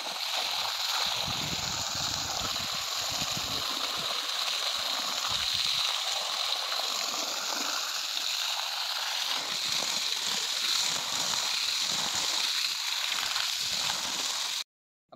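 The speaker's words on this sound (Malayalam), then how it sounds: "ഇത്തിരി വെള്ളം അടിച്ച് അവരുടെ തലയൊക്കെ ഒന്ന് തണുപ്പിച്ചു കൊടുക്കാം" Water is sprayed steadily over buffaloes' heads on a Kerala buffalo farm, a continuous close hiss and splatter lasting about fifteen seconds before cutting off.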